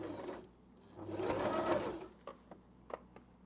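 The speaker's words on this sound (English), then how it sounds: "take the pins out before you actually start sewing" A sewing machine runs in a short burst of about a second while stitching the base seam of an upcycled tote bag, then stops, leaving a few faint clicks of handling nearby.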